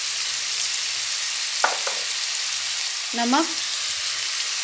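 Egg bhurji with bottle gourd frying in a pan with red chili powder: a steady, close sizzle runs throughout, and a voice briefly speaks over it twice.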